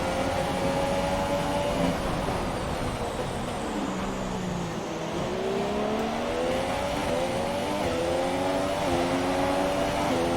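Formula 1 race car engines from the F1 2017 video game at Suzuka, several cars battling closely; a steady high-pitched engine whine rises and falls with gear changes, loud and continuous throughout.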